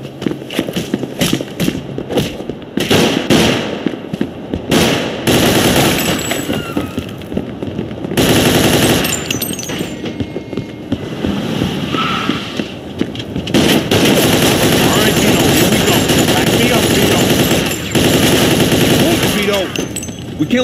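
Gunfire in the Mafia II video game, with dense, loud bursts of automatic weapon fire and scattered single shots going on almost without a break, while voices shout over the shooting.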